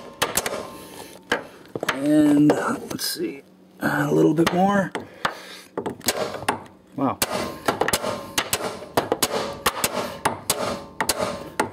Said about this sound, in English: So you have to hammer this in as far as it'll go.